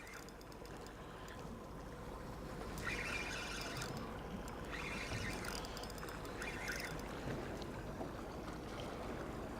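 A boat engine hums steadily at low speed beneath broadband water and wind noise, with occasional splashing swells, while fishing for kingfish.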